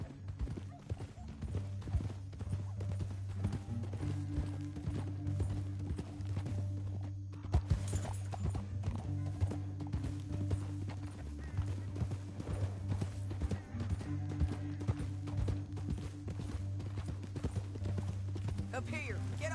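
Horses' hooves clip-clop steadily along a canyon trail, a close rhythmic clatter beneath a droning musical score, with a whinny and brief spoken lines mixed in.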